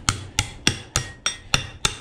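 Pliers work copper out of a condenser unit in seven sharp metallic strikes, evenly spaced about a third of a second apart, close and loud with no talk.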